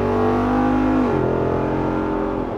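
A Jeep Rubicon with a 392 V8 engine on one-ton axles accelerates on the road, a loud, steady close engine roar with a gear shift dropping the pitch about midway.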